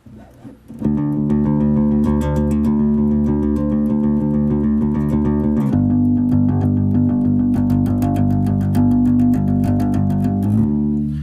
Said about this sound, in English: It includes using a guitar pick to pluck the strings instead of your fingers.